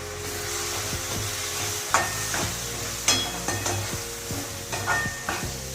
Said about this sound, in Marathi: हे मी मिश्रण छानच आता परतून घेते बघा